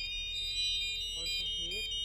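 Gyro panel caution alarm signalling a GPS communication error, a steady high electronic tone that holds throughout while a person talks over it.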